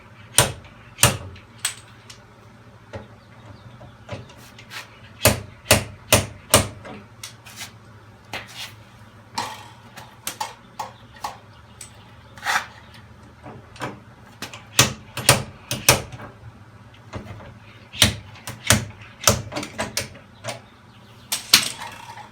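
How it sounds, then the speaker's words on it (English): Slide hammer pulling a dent on a Toyota Camry body panel: repeated sharp metallic knocks, sometimes single and sometimes in quick bursts, loud and close in a quiet shop. "see what happens when I use my slide hammer"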